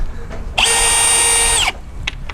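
A hammer drill runs in one loud burst of about a second, driving 5/8 screws for a large balloon installation, with a whining motor pitch that rises and falls away, between quiet room noise and faint clicks.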